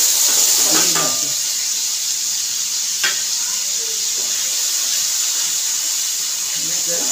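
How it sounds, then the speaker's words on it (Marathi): Paneer fries in hot oil, a loud continuous sizzle and hiss with a few stirring clinks as the pieces are turned in the pan. "हे तेल तापलेलं आहे, तर मी त्याच्यात पनीर घालते।"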